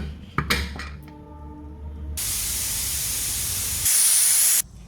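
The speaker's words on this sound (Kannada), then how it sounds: "ಒಂದು 2 ಸೀಟಿ ಬರ್ಸೋಣ." A few metallic clinks, then a loud steady hiss of steam bursting from a pressure cooker, rising to a sharp shrill whistle before cutting off abruptly.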